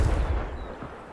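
Confringo explosive spell in Hogwarts Legacy, a low booming blast that rumbles and fades over about a second, heavy in the bass, with no speech.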